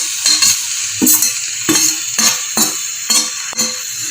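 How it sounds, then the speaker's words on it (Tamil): Grated carrot sautéed with onion and tomato for masala dosa filling sizzles steadily in a pan, broken by about seven quick, evenly spaced stirring scrapes, close and fairly loud. "துருவி வச்சுருக்க கேரட்டை போட்டு நல்லா வணக்கி விட்டுக்கோங்க"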